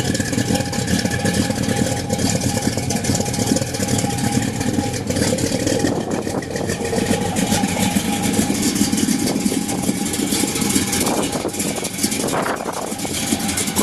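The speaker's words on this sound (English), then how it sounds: "You guys want to hear this big block?" A big block car engine idling steadily outdoors, a loud, continuous low rumble with wind noise running throughout and no talk over it.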